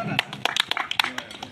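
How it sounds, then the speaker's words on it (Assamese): Hand clapping at an outdoor felicitation for an honorary lieutenant's family, heard as a loose run of sharp, closely spaced claps under a speaking voice. "এই হাত চাপৰি দিয়ক"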